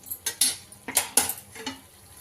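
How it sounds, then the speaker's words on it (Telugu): Chicken pieces frying on low heat in a pan while a spoon stirs them, giving a quick series of metallic scrapes and clinks against the pan over a soft sizzle, close and alone. "సిమ్లో పెట్టుకొని బాగా వేయించుకొని మధ్య మధ్యలో కలిపెడతా రావాలండి"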